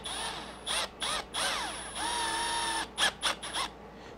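Screws being driven into the plastic center brace of an ARRMA Kraton V3 RC car with a small electric driver, several short whirring bursts and one longer whine, close and alone.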